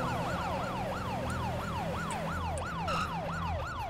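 A police car siren in a GTA roleplay game wails in rapid repeating sweeps, loud and steady throughout with no talking.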